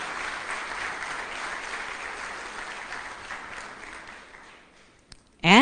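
Sustained audience applause for veterans at a live State of the City event, steady and dense for about five seconds before fading out, ending with a brief loud burst of sound.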